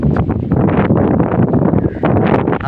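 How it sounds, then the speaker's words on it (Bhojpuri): Strong gusty wind buffets a rural village during a rainstorm, a loud roaring rush that rises and falls in heavy, continuous waves close to the listener. "हवा भी तेज होखे लागल।"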